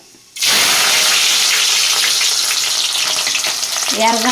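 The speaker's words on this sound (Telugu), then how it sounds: "నూనె గాగిపోయింది, ఇప్పుడు ఆవాలు వేసుకోవాలి." Mustard seeds dropped into hot oil burst into a loud, bright sizzle that starts abruptly and holds steady, with crackling spatter throughout and a faint tonal clink near the end.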